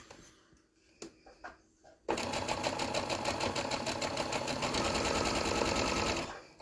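A sewing machine stitches a quarter-inch seam along the raw edges of quilt strips, starting after a few faint handling clicks and then running loud and continuous with a fast pulsing whir for about four seconds before easing off.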